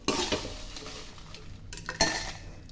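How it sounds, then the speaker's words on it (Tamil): Ingredients for homemade chili powder dry-roasting in a pan, with a steady close sizzle, a stirring scrape and a sharp metallic clink of utensil on pan near the end. "இந்த மாதிரி சத்தம் கேட்க அளவுக்கு வறுக்கணும்."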